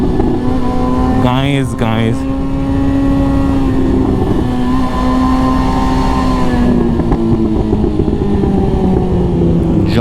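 A Suzuki Hayabusa motorcycle engine drones loudly and steadily while riding, a close, continuous hum with wind noise, and someone talks briefly over it near the start.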